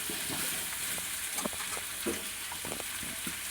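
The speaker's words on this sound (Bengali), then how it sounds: "এবার একসাথে এটা ভাজা হবে।" Onion and potato sizzle together in a frying pan, a steady hiss with a few soft scraping knocks of stirring, up close at moderate loudness.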